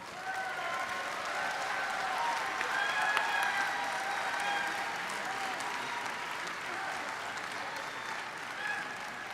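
Steady applause from a large delegate audience at a union convention as a speaker is welcomed to the stage, sustained even clapping with a few cheers, moderately distant and unbroken.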